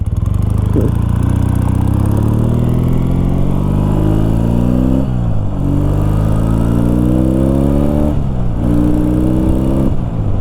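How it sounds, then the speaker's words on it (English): Triumph T140 motorcycle engine pulls hard while riding, its loud throaty drone rising through each gear, dipping briefly at the shifts and climbing again, with steady wind noise throughout. "This engine is just really torquey. It has a lot of grunt and a lot of power to it."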